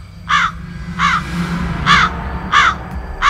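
Crows caw loudly and close, five harsh calls spaced at a steady, unhurried rhythm against a low background hum, used as an eerie effect in a horror story.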